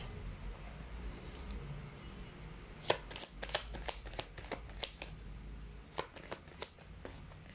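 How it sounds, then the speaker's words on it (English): Tarot cards being shuffled at a fairly quiet level: soft rustling gives way to a run of crisp, rapid riffling flicks in uneven clusters, with no talk. "let's try to pull up another set of cards"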